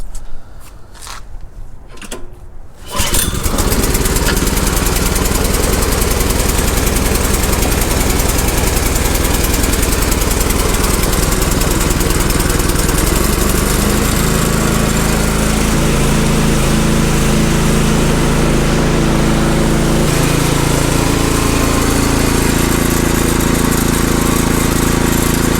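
A snow blower's small engine catches after a few quiet seconds and then runs loud and close, a steady buzzing drone that holds for the rest of the stretch with slight shifts in pitch.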